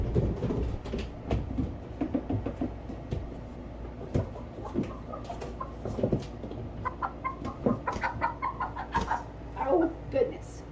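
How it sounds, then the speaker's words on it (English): A silver lace Wyandotte hen clucks near the listener in short, irregular bursts that grow busier toward the end, mixed with handling noises and people talking nearby. "I will get my silver lace Wyandotte out and let you see how pretty she is"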